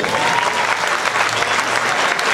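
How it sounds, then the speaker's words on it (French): A crowd applauds bodybuilding athletes at the 2013 Lyon Grand Prix competition, the clapping dense, loud and continuous across the whole stretch without letting up. "Vos applaudissements, s'il vous plaît."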